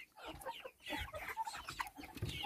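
Hens of the naked-neck and Redbro meat breeds cluck repeatedly on a poultry farm, with several overlapping calls close by and no voices.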